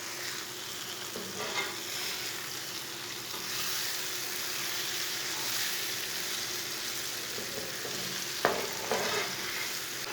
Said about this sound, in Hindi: 2 अंडे डाल लेंगे। अच्छी तरह मिक्स कर लेंगे।